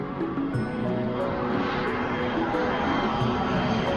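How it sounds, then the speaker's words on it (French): Airplanes flying outside, a steady loud engine roar that fills the whole stretch without a break, sounding continuous and broad like aircraft passing overhead. "Qu'est-ce qui se passe avec les avions dehors?"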